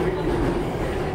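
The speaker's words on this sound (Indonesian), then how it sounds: "Kereta ini menuju stasiun akhir Bundaran HI" A Jakarta MRT train running at night, a steady dense rumble of wheels and carriage noise heard close from inside, continuous and even with no voices.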